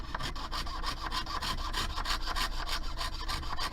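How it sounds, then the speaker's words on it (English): A fine jeweler's saw rasps back and forth through metal in a steady, quick rhythm of even strokes using the full blade length, close up with no talking. "the key to speed when you're sawing is using the entire length of the blade"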